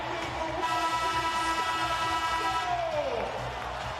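Basketball crowd in the Target Center arena, a dense, steady roar that holds loud throughout, with a tone sliding downward near the end.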